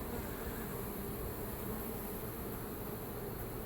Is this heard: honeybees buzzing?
yes